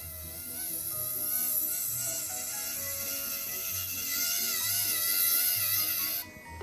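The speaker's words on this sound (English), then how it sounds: "Put the drill in reverse for the other side." A steady high-pitched electric drill fitted with a ceramic bit whines continuously with a grinding edge, close and loud, before cutting out abruptly at the end.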